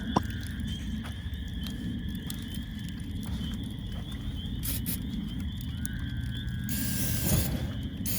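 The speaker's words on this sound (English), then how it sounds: "let me spray the grill." Cooking spray hisses onto a camping grill in a short burst near the end, over steady outdoor background noise with faint mechanical clicks.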